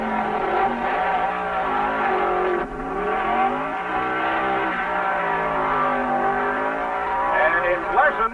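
Drag race cars at the 1970 NHRA US Nationals, a Chrysler-powered Chevy II against a Camaro, roaring loudly with rising, shifting engine tones, a commentator talking over the noise.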